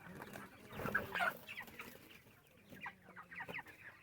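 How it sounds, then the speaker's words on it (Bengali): Broiler chickens around 28 days old cluck and call in a poultry farm shed of about 2000 birds, a busy cluster of fowl sounds peaking early then continuing in scattered bursts at moderate distance. "দেখো দেখো মুরগি দেখো।"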